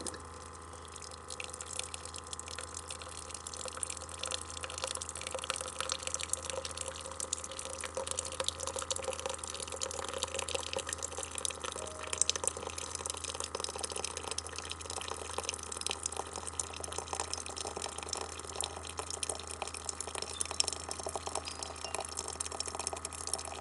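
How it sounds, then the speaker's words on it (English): Hot water streams steadily through a brewing machine making iced tea, a continuous close trickle and hiss with faint dripping, no voices. "That's just hot water coming through there."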